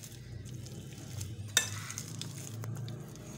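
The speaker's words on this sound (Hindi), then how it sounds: "अब इनको भी इसके अंदर मिक्स कर लेंगे अच्छी तरह से" Eggs being mixed by hand into a mashed potato cutlet mixture, soft squelching stirring with a light utensil clink against the bowl near the middle, close and quiet, no one speaking.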